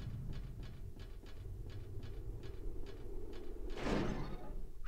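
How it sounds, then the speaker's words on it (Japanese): A door opens in the horror video game Silent Hill 4: a short, heavy mechanical scrape-and-clunk near the end, preceded by faint rhythmic ticking steps over a low ambient drone. "普通に扉は開けられるんだ。"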